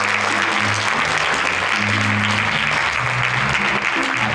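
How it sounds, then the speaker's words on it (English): An audience at a poetry celebration honoring the Illinois Poet Laureate applauds steadily, a dense wash of clapping that holds at full strength for the whole stretch, with faint voices mixed underneath. "Can y'all please clap for that?"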